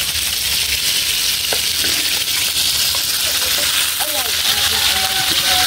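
Onion and garlic sauté in hot oil in a home kitchen, giving a continuous loud sizzle with faint clinks as the pan is stirred and a voice talking now and then.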